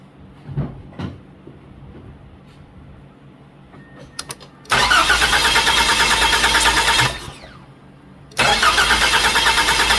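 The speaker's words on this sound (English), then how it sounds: "I'm going to crank it over a few times" A Mazda 2.3 engine with its intake cam and actuator removed cranks over on the starter in two loud sustained bursts, each a few seconds long with a rapid mechanical chug, after a few quiet clicks and knocks.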